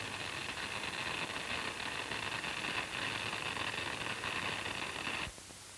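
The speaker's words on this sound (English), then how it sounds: "Another way to recognize when you're welding correctly is in the sound of the arc." A steady, crackling hiss like frying bacon from electric arc welding runs continuously for about five seconds, then cuts off abruptly, leaving quiet background.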